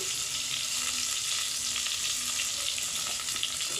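Onions, curry leaves and mint frying in a pan give a steady, close, bright sizzle with faint crackles throughout, with no voices.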